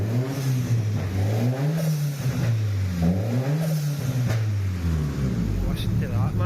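A Nissan Pulsar GTiR, a rare car under restoration, idles and revs with a rising and falling engine note. The sound is close and steady, with voices talking over it.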